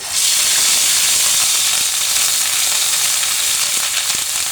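Pointed gourd frying in hot oil with spices, a loud continuous close sizzle and hiss that holds steady throughout, with faint stirring clicks near the end.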